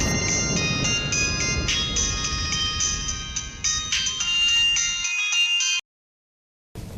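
A phone ringtone plays during an outgoing call, a loud repeating electronic melody that cuts off abruptly near the end.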